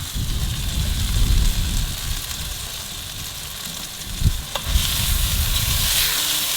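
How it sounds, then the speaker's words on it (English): Red wine hits a hot pan holding tri-tip and sizzles steadily and loudly close by, a constant hissing sputter that briefly flares up near the end. "We're gonna deglaze with the red wine."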